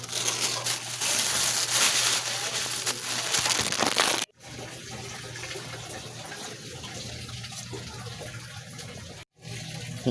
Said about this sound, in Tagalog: Ang unang gagawin ay maglalagay tayo ng tubig sa kaserola.